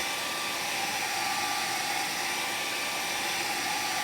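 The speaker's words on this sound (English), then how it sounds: "So I've got a hairdryer here, and we're going to take the hairdryer to this and dry it" A hair dryer blows on wet paper with a steady, loud whooshing hiss, unchanging throughout, with no other sounds.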